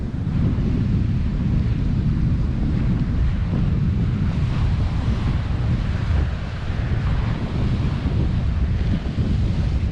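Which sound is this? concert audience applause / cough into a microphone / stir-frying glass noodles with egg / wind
wind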